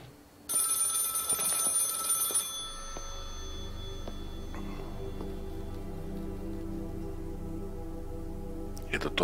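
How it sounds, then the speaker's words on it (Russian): An old telephone rings loudly in the Maid of Sker horror game, a bright metallic bell burst lasting about two seconds, then fading into a low sustained ambient drone with faint clicks. "телефон где-то звонит"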